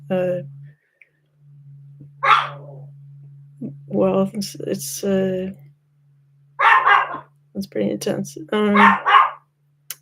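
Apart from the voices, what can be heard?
dog barking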